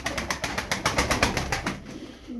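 Feather-footed Turkish tumbler pigeons cooing up close, a loud rhythmic series of throaty pulses repeating for the whole stretch.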